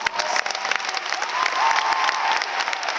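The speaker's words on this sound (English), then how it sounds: "Please give a round of applause and recognition" Applause from the audience at a high school graduation ceremony, crisp individual claps standing out within a lively crowd ovation, with a few scattered cheers and no voices speaking.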